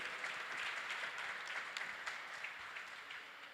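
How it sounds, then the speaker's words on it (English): An audience at a quiz show semi-final at Bayside Mall claps in a warm, steady round of applause, a dense, even patter of many hands that holds throughout, slightly distant and soft. "Warm round of applause."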